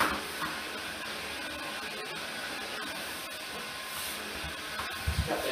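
A heat gun blows hot air over Texline vinyl flooring to warm the vinyl and the glue beneath it, giving a steady, close, airy roar that holds evenly throughout with a few faint knocks.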